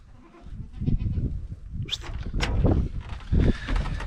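Newly added breeding kids and lambs bleat in a farm flock, a run of overlapping mixed cries at close and middle distance over a steady rustle.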